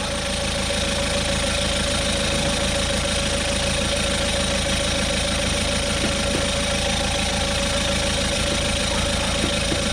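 An Auto XS digital tyre inflator pumps a tyre to 35 psi with a steady, close, loud mechanical drone and a rapid pulsing motor vibration that holds unchanged for the whole stretch.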